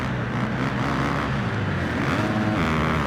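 Supercross motorcycles racing in Monster Energy Supercross 4, a steady dense roar of engines that keeps the same level throughout, with no gaps and no speech.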